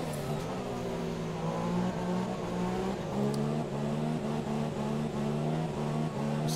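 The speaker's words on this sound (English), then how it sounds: "A disconnected car that the AI is driving around?" An AI-driven Formula 1 car in the F1 2017 video game drives past with a steady, loud engine drone whose pitch shifts slightly as it goes by, heard alone throughout.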